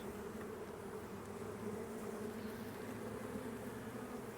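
Honey bees buzz steadily at a concrete beehive, a dense, even drone of many insects close by, quiet and continuous with no talk.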